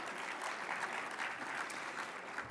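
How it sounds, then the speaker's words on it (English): Conference audience giving a round of applause at a hotel summit closing session, a faint, even patter of many hands clapping continuously throughout. "Let's go ahead and give them a round of applause as well."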